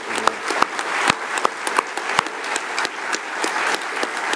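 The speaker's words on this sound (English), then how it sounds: "So a round of applause, please." Audience at an Auckland public meeting about saving TVNZ7 applauding, a steady patter of many hands with a few louder individual claps, alone and moderately near.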